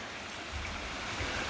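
A full waterfall by a dam in the Vršac mountains gives a steady broadband roar of falling water, fairly close, with a low rumble swelling slightly midway.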